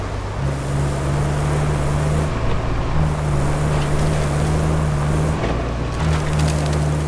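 A heavy truck engine from the construction game RoadCraft, a steady droning hum with brief dips and pitch steps as it shifts gears, sounding repetitive and looped, loud and alone.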